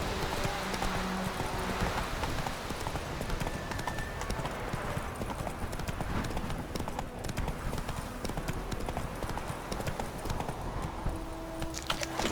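Roach, Geralt's horse in The Witcher 3, gallops continuously, a steady rolling clip-clop of hooves that stays close and even throughout, with faint game ambience underneath.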